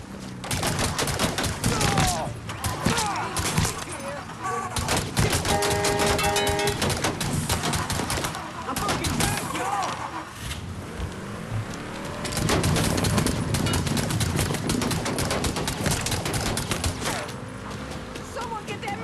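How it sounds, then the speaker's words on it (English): Rapid bursts of gunfire crackle through a dense, busy street scene in Mafia 3 Definitive Edition, with shouting voices and traffic mixed in throughout. "That man shooting a gun?"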